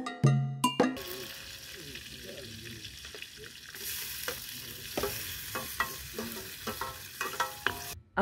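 Onions sizzle in hot coconut cooking oil in a pan on an open fire in an African village kitchen, a steady crackling hiss broken by the clink and scrape of stirring.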